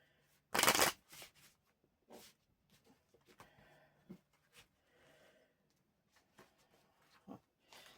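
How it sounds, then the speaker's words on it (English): Cards are riffled in a sharp burst, followed by softer irregular shuffling, tapping and handling sounds, close and quiet. "The cards got kind of complicated to shuffle just then"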